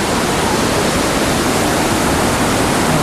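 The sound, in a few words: waterfall roaring with pressurized water spray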